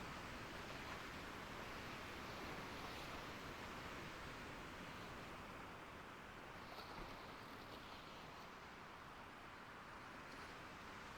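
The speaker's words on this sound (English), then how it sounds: "Oh, these waves are getting a bit high." Ocean waves and wind in the sailing game Sailwind: a steady, faint wash of surf and wind noise that runs unbroken from start to finish.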